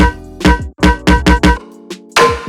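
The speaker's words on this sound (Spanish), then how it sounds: "Esta percusión sin proceso suena así" Unprocessed percussion layer for a tearout gun bass: a string of about eight punchy, close hits in an uneven rhythm, each with a sharp attack and a short decaying body, separated by brief gaps.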